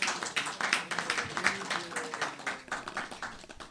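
Scattered clapping from a small audience at an ISKCON temple Sunday program after an Ekadashi reading, a loose round of claps fairly faint and uneven, thinning out over a few seconds.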